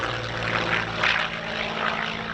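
A Curtiss P-40 Warhawk, an all-metal warbird with fabric-covered control surfaces, runs its propeller engine at a warbird weekend, a steady loud droning roar that swells and eases slightly while the controls are exercised.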